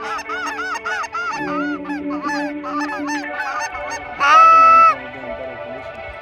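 Geese honk repeatedly at close range, a flock calling in overlapping loud nasal honks, with one especially loud burst near the end.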